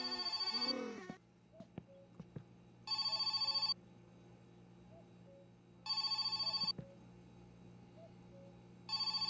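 A telephone in My Summer Car rings in repeated electronic bursts, three clear rings spaced about three seconds apart over a quiet room hum, with a few soft knocks between.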